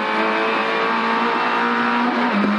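A Renault Clio rally car in a rally stage race runs flat out at full throttle, its engine a loud, sustained, steady roar heard close from inside the car without a break.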